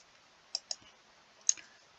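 Keys are pressed on a computer keyboard during spreadsheet work in Excel, giving a few sharp, quiet clicks: two close together, then a single louder one a moment later, over near silence.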